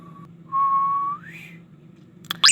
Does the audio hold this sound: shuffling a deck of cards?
no